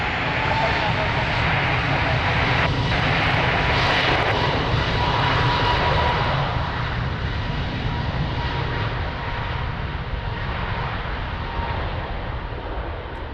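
An airliner takes off from runway 02 at windy Lisbon Airport, its jet engines producing a loud, sustained roar that slowly fades, while radio-style voices talk over the noise.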